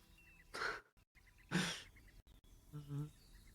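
A person's voice imitates a strange bird call, two breathy whooshing cries followed by a lower hooting tone, close and fairly quiet, with short gaps of near silence between.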